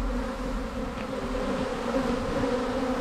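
A dense, continuous buzzing of a honey bee swarm being collected at an apiary fills the air, steady and close, with no voices.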